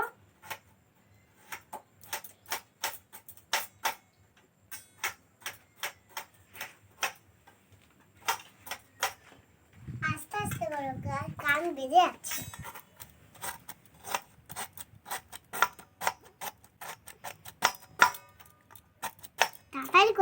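A fork pricks pieces of ash gourd being prepared for morabba, giving a quick run of sharp, light ticks and taps close by, with a burst of handling noise midway and voices talking over it.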